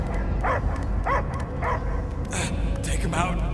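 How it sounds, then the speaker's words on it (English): A dog in the Guardians of the Galaxy video game gives repeated short barks and yips, several in a row over a steady game soundtrack and effects. "I hear only barking"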